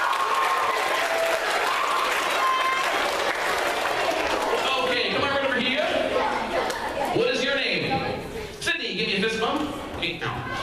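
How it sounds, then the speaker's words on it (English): School audience applauding a volunteer called up on stage at a middle school show, sustained clapping and cheering that thins out as people talk over it near the end. "a great big round of applause"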